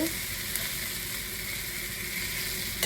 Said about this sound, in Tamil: தக்காளியும் கொஞ்சம் வதங்கட்டும்.